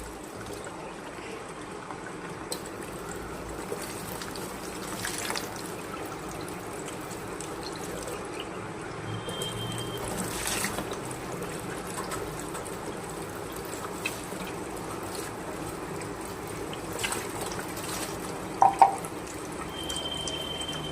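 Running water while bathing a pet named Tuntuni, a continuous soft trickle and stream with scattered drips and splashes, steady and moderately close.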